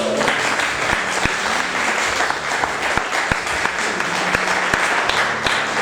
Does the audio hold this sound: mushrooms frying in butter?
no